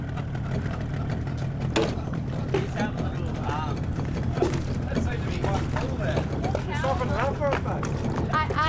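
A dinghy outboard motor gives off a low, continuous engine drone on the water, heard steadily beneath people talking.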